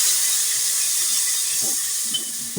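Tomato and green chili paste sizzling in hot oil with browned onions, a steady, loud, close hiss that runs without a break under no talk.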